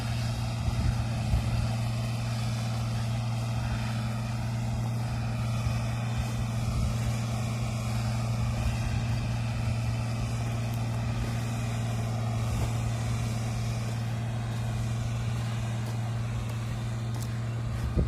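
A New Holland T6050 tractor's six-cylinder 6.7-litre engine runs at a constant pace while pulling a cultivator in the field, producing a close, steady, deep drone with no variation and no talking.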